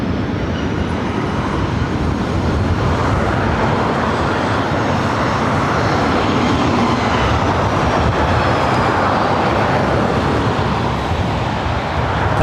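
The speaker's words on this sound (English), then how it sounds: "That was Delta Airlines Flight 501 coming in from Atlanta, Georgia, 757-300" A Delta Airlines Boeing 757-300 landing at LAX, inbound from Atlanta, roars loud and continuous with dense jet engine rumble throughout, no voices.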